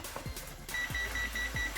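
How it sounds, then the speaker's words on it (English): A kitchen oven buzzer sounds to signal it has finished preheating, a steady high electronic tone running through the second half under low thumping background noise. "the buzzer to let me know it's preheated takes a while"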